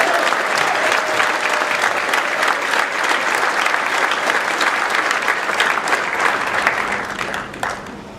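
Sustained applause from an audience of Marines and sailors greeting guest speaker Richard Lowry at a morning gathering, dense steady clapping filling the room for about eight seconds before tapering slightly at the end.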